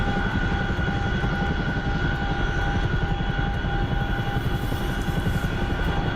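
A Chinook helicopter in a video game flies and comes down to land, its twin-rotor drone steady, close and loud throughout without any talking.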